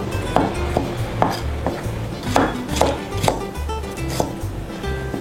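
A knife chopping bell pepper on a board, a run of sharp irregular cutting thuds close by, loud and with no talk.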